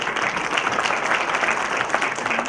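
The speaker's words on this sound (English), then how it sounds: "Please give a bigger round of applause for that" Steady audience applause at a Hyderabad event at the Taj Vivanta, a dense patter of many hands clapping at even loudness throughout the short burst.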